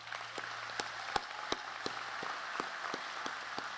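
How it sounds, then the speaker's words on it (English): Applause from a crowd at a high school graduation ceremony, with a wash of clapping and a few sharper claps standing out, steady and fairly distant. "Graduates, please show them your appreciation with a huge round of applause."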